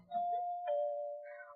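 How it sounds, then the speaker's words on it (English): A doorbell in an old radio western rings with two clear chime tones, ding then dong, each sustained and ringing out cleanly. A faint voice murmurs beneath the first chime, and a brief higher note follows near the end. "Oh, it's the doorbell. Let it ring."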